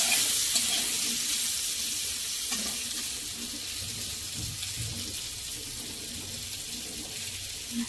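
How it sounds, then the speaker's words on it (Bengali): Potatoes fry lightly in hot oil, making a steady, moderate sizzle with occasional soft stirring sounds and no voices. "হালকা করে আলুটা ভেজে নেব।"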